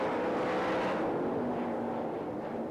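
Sprint-style race cars racing for the lead at the Knoxville Nationals dirt track, a dense continuous engine roar from the pack, heard from a distance in steady broadband form.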